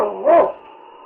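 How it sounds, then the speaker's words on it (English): A single bark from Yukon King, a husky sled-team lead dog, rings out close and loud against a quiet background, then fades away within a second. "It's Yukon King, swiftest and strongest lead dog of the Northwest"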